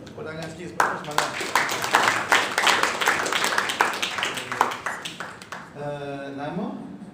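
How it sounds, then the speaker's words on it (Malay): Audience clapping during a children's call-to-prayer and Al-Fatihah recitation practice: a run of brisk, fairly loud claps from a small crowd, lasting several seconds and fading out, with talk overlapping. "Tepuk tangan sikit semangat."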